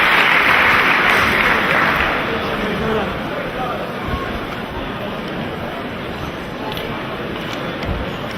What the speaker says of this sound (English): let's have a massive round of applause for both warriors